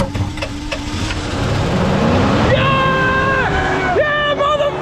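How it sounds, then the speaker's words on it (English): A truck motor runs at a steady rumbling idle close by, with a rising whine and tonal revving partway through, while people talk and shout over it outdoors. "I never heard a motor sound exactly like that though"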